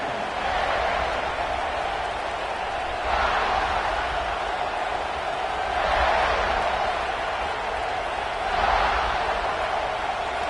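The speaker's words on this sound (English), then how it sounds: "This crowd ready to make its presence known." Stadium crowd roar in the College Football 26 video game, a steady dense wash of cheering that swells in waves roughly every three seconds, heard under a commentator's voice.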